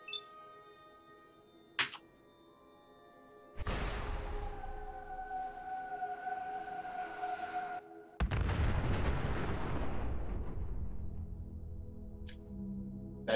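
Nuclear bomb weapon fired in Fallout 4 Far Harbor: a sharp launch crack, then a sustained roaring whoosh with tonal hum, followed by a loud booming explosion that rumbles and fades, all without talk.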